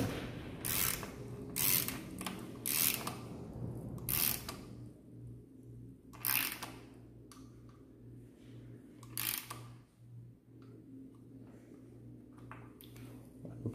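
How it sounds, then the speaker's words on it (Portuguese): A torque wrench tightens a bolt on a tapered steering head, giving a run of short, sharp ratcheting clicks in uneven bursts over a low steady workshop hum. "vou usar o torquímetro, apertadorzinho."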